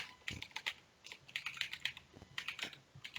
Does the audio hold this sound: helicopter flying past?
no